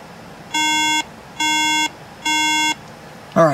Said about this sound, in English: we're getting the 3-beep RAM error code right now